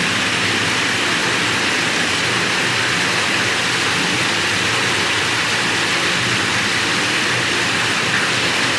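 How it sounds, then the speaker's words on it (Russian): Steady, full-bodied rush of water pouring from two pipes and splashing down as a waterfall into darkness, a constant roar with no pauses, close and fairly loud. "образуя водопад"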